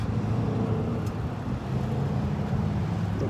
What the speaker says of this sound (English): the engine sound is going off right when he drives in front of me.